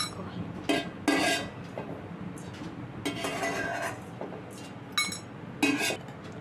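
Roasted cinnamon, cloves and cardamom scraped from a kadai into a bowl, with several clear metallic clinks and scrapes of utensils against cookware, separated by short quiet pauses.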